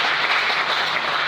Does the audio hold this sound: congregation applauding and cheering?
yes